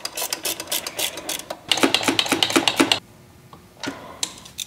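A 10 mm socket wrench tightens a nut onto a bolt while fitting a power steering cooler and reservoir relocation kit on a Nissan S13, giving close, rapid ratcheting clicks in bursts with a short pause between them.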